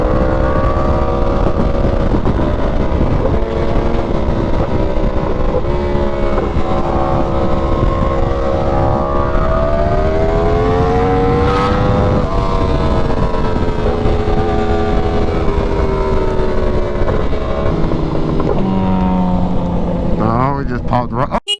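A group of sport motorcycles, including a Yamaha R1M, rides together, with loud, steady engine drone and wind roar rising and falling through gear changes across the whole stretch.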